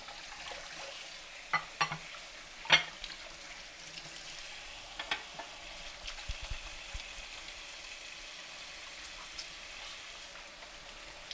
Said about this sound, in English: we're just going to make sure that it all sautés really nice all over